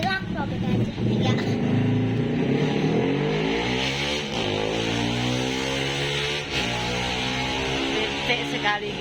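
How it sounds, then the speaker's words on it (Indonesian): A motorcycle engine runs loud and steady for the whole stretch, with pitch rising and falling as it revs, while people talk over it. "Suara motor yang bikin pening."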